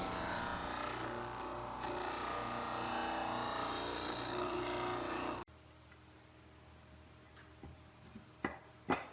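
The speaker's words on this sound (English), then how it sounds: "I'm going to use my disc sander." A disc sander rounds over the edges of wooden pieces for a garden bench, a loud continuous grinding whir for about five seconds that cuts off abruptly, followed by quiet handling knocks and taps.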